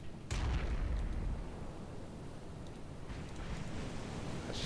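Naval guns on a warship fire in a video game battle, one heavy boom opening the moment and a second, softer rumbling volley following a few seconds later, both fairly distant-sounding with no talk.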